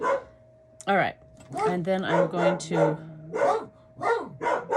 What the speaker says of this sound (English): so the dog's going crazy